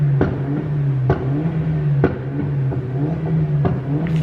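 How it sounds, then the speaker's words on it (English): An engine drones steadily nearby, with sharp periodic bursts roughly every second as it is revved in repeated short blips. "who is revving?"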